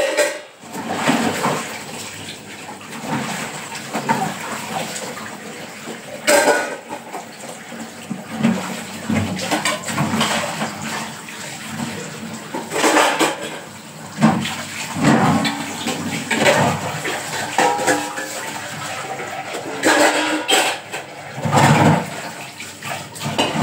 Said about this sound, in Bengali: থালা বাসন ধোয়া হয়ে গেছে